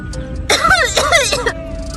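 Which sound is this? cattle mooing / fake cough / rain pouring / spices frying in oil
fake cough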